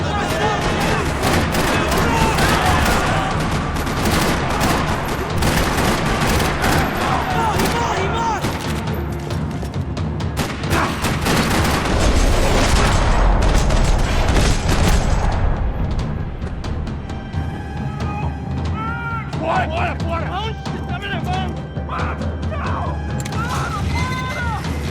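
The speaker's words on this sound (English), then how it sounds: "Another parking lot rattling with gunfire." Sustained rapid gunfire in the video game Max Payne 3 rattles continuously through a parking lot, with bursts of automatic fire and sharp reports layered over a busy, loud soundscape, thinning out toward the end.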